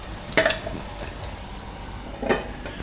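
Chana appe batter cooking in an appe pan on a medium gas flame, a steady soft sizzle close by with a couple of brief metallic clinks from utensils; no talking.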